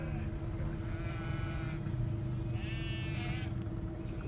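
Sheep bleat in a field, two drawn-out calls a second or so apart over a steady low rumble of distant traffic, with no talk.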